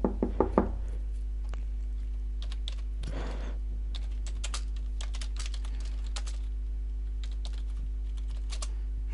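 In the video game Facade, a quick burst of three or four sharp knocks on a door comes at the very start. It sounds close and fairly loud, then gives way to soft scattered keyboard clicks over a steady low hum.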